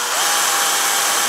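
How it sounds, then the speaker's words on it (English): A power drill bores a small hole into a wooden dowel while a drawer is being fixed, a loud, steady high whine that holds for the whole stretch with no pauses or talking. "I drill a small hole into the dowel"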